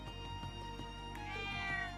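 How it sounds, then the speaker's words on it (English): A cat meows softly in the video game Trails of Cold Steel III, a faint short call rising over quiet background music and ambience. "Oh, it's a cat."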